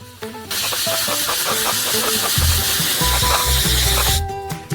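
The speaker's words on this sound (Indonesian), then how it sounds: "semprotkan nitrogen langsung ke dalam karamel panas" Liquid nitrogen at minus 150 degrees is sprayed from a can onto hot caramel, giving a loud, steady hiss for about four seconds with faint clicks and sputters, then an abrupt stop.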